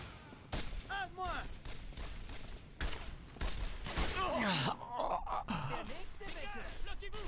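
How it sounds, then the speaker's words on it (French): Gunfire in the PS2 World War II shooter Brothers in Arms: Road to Hill 30, with repeated rifle and machine-gun bursts and distant artillery booms at steady intensity, and French-voiced soldiers shouting orders over the battle. "Ne cessez pas de tirer."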